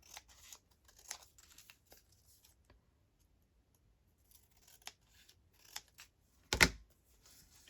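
Scissors trimming paper for a medieval-themed junk journal, a scatter of quiet close snips and rustles with a louder crisp cut near the end, separated by short silences.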